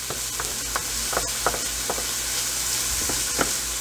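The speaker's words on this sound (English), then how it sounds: "it doesn't matter because we're just cooking eggs for now" Eggs frying in butter in a pan over a high flame give a steady close sizzle, with scattered louder crackles and pops throughout.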